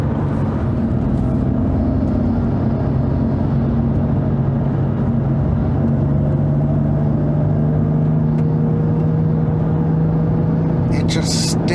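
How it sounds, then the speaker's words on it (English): A manual BMW M2 Competition's engine drones loudly and steadily from inside the car, a deep constant intake rumble with no clear revs. "Those intakes are loud. They are very loud."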